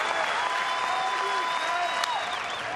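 A sellout crowd at a college baseball game between South Dakota State and Nebraska applauds on its feet, a steady wash of clapping and cheering with a faint whistle, while a commentator's voice runs over it.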